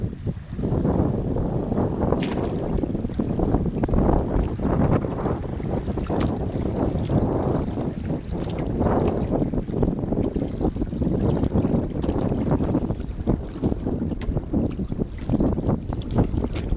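Strong headwind blowing across open water during a paddling outing, a loud, continuous buffeting roar on the microphone with faint splashing beneath it and almost no talk.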